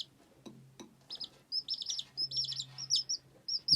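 Newborn baby chicks peeping in a makeshift warm brooder, a rapid string of high, close chirps in quick bursts over a faint low hum.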